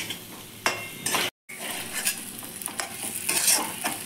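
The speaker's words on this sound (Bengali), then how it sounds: "এবার আমি মশলার সাথে আলুগুলোকে ভালো করে মিশিয়ে নেব" Fried potatoes being stirred with spices in a pan for aloo dum: close, rough scraping strokes over steady frying hiss, with a brief silent break partway through.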